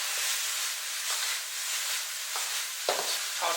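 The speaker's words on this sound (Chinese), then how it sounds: "然后大火给它翻炒均匀， 炒出香味。" Green beans being stir-fried in a wok over high heat for dry-fried spicy green beans: a steady broadband sizzle with several scraping tosses of the spatula, close and loud, no talking.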